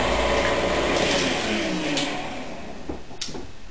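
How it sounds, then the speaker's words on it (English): Chocolate cake batter thinned with boiling water whirs steadily in a blender, a loud continuous motor drone that eases off near the end, followed by a few light clicks. "You just want to blend that for a couple minutes."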